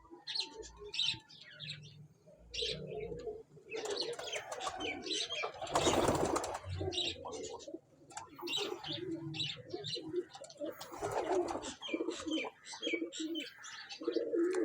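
Parwazi pigeons for sale coo in low, repeated calls while wings flap in bursts and small chirps scatter through, fairly close, with faint voices in the background.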